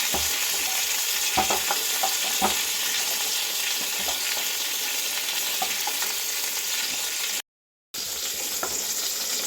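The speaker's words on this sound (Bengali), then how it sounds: "পটলটা এখন ভেজে নেওয়া হয়ে গেছে, তো খুব ডিপ ফ্রাই করলাম না, হালকা করে ভেজে নিয়েছি" Pointed gourd frying lightly in hot oil for a Bengali doi potol dish, giving a steady close sizzle with scattered pops and stirring clicks throughout and a brief drop-out near the end, no voices.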